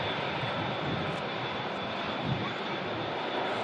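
An Airbus A380 taxis at Manchester Airport, its engines giving a steady, broad roar that stays loud and even for a few seconds, heard from a nearby viewing area with no talk.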